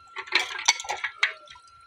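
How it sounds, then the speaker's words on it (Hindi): Dishes and utensils being washed after tea in a village home, with steel pots and cutlery clinking and clattering in quick, irregular knocks close by, and no voices. "अभी जो है बर्तन धो के रख रही हूँ"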